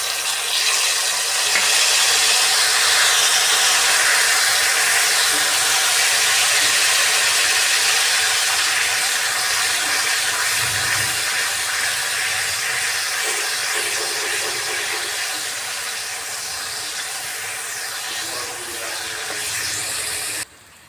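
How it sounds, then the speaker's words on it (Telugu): Steady loud sizzling hiss of tamarind juice frying in a pan, continuous and close, fading slightly toward the end. "బాగా చింతపండు రసము దగ్గర పడే వరకు ఫ్రై చేసుకున్నాం"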